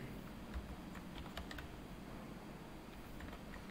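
A password being typed on a computer keyboard, a few soft, close keystroke clicks over a steady background hiss, sparse and irregular.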